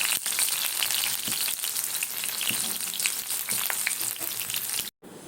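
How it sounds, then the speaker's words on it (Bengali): Kalmi greens (water spinach) sizzling in a little oil in a wok with garlic and green chilli, a dense crackling fry that holds steady and close until a brief cut near the end. "কলমি শাকটা ভাজার জন্য কড়াইতে তেল দিয়েছি"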